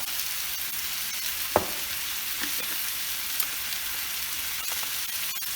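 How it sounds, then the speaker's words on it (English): Meat for Philly cheesesteaks sizzles steadily in a hot pan, a dense continuous crackle close up, with a few faint scrapes and taps as it is stirred. "I just want to keep stirring that and mixing it so the meat gets cooked all the way through."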